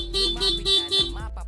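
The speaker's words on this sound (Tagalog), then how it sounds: "stock horn lang yung tutunog, no?" A Honda ADV 160 motorcycle's stock horn honks in four short, steady bursts with brief gaps, loud and close, followed by a moment of quiet.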